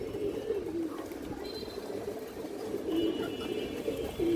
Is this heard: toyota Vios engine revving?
no